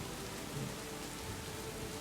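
Steady, dense rain pours outdoors as an even, close wash of patter with no distinct breaks.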